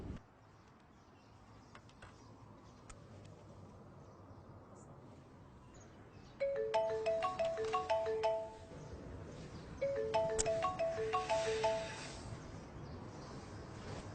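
A mobile phone plays a melodic ringtone for an incoming call, two short chiming phrases a few seconds apart over a quiet room background.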